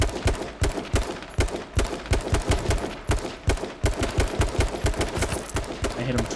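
Rapid bursts of gunfire in the H1Z1 video game, dense repeated shots in quick volleys, loud and close throughout the clip, with a voice faintly present underneath.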